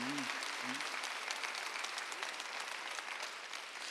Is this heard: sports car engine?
no